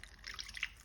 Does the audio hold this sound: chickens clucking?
no